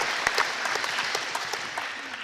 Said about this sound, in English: Please give them one more round of applause for this monumental achievement.